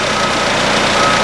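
A semi truck's diesel engine idles steadily while warming up, a close, loud, even rumble with a faint repeating tone over it and no speech.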